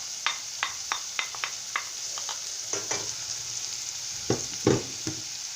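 Onion and zucchini frying in a pan give a constant bright sizzle, broken by a series of close, sharp spoon scrapes and taps as the vegetables are stirred.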